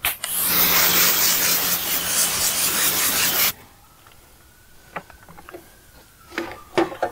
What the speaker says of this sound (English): Now we'll take our lambskin mitt and then we'll wipe the face of the wheel down.